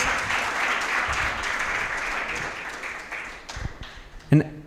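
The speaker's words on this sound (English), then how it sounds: "Give another round of applause." A crowd at a benefits launch event claps together in a dense, steady wash of applause that thins toward the end. A voice breaks through near the close.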